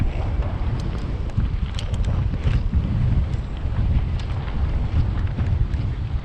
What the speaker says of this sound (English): The wind is vicious coming from right there.